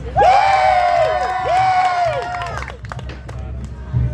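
Audience members at the Sherwood Forest Faire bard battle give Lady Prudence loud, high whoops and shouted cheers, two strong swells then a looser, thinning tail of scattered voices.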